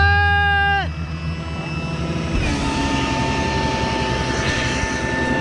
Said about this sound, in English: I had to try to jumpstart that engine one more time